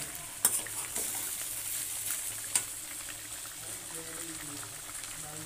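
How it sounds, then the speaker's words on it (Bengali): Potatoes fry in a pan, being stirred, with a steady soft sizzle and a couple of sharp utensil scrapes, heard fairly faint and close. "আর এদিকে আলু ভাজাটা দেখো।"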